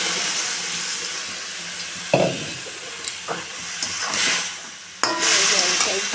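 Bottle gourd and crab simmering in water in a pot are stirred with a spoon, which makes a few short scraping knocks over a steady bubbling hiss. A louder burst of bubbling and steam follows near the end.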